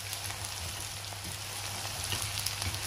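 Sliced ash plantain and onion sautéing in a pan for a Sri Lankan plantain curry, giving a steady, soft close sizzle with faint crackles throughout and no voices.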